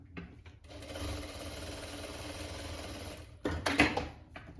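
A sewing machine runs a steady, close stitching burst along the seam of a winter pajama, going back over a section the first pass missed, then a few louder mechanical clacks as it finishes.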